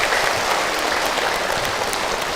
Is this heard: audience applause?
yes